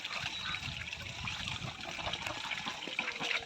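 Pekin ducks bathing in a backyard tub give soft, faint trickling and splashing water sounds, steady and low in level, with no talk over them.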